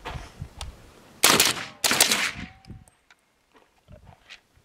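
Suppressed FN FN15 Tactical rifle in 300 Blackout firing two loud, close gunshots about half a second apart, each with a sharp crack and a trailing ring-out, followed by quiet scattered handling noises.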